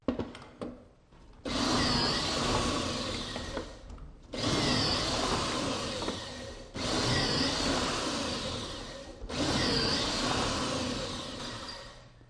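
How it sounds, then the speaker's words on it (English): Kreg pocket hole machine drilling holes in wood trim, four loud whirring bursts of two to three seconds each, separated by brief pauses. "So I'm going to go over to another machine where I can rapidly drill these holes."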